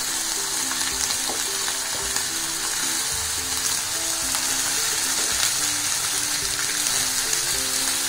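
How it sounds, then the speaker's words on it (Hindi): Rice and vegetables for a vegetable pulao frying with spices in a pan make a close, steady, loud sizzle with faint stirring scrapes throughout, and no voices. "और अभी हम इसको अच्छे से भूनेंगे मसालों के साथ"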